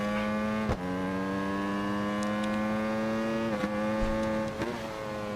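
In the racing video game RIDE 4, a Honda VTR1000R motorcycle accelerates along a long straight, its engine holding a steady, loud whine with sharp pitch drops at each gear change, heard without talk.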